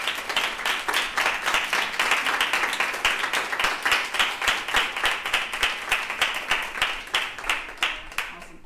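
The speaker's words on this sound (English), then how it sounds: "So if y'all give a round of applause for Dr." An audience gives a round of applause at a university storytelling lab event, steady dense clapping sustained throughout and fading slightly at the end.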